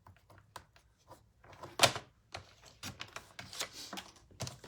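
Card stock is cut to a small 3/4 by 5 1/4 inch strip, heard as faint, close clicks and taps with one brief sliding scrape partway through, all quiet and without talk.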